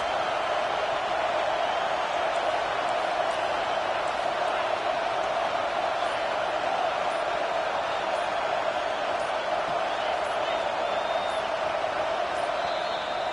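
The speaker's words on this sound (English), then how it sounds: "Listen to this crowd just shaking the girders of this place, trying to help their defense" A packed stadium crowd at a Georgia Tech vs Miami football game roars to rally its defense, a dense, sustained wall of distant cheering and shouting that never lets up.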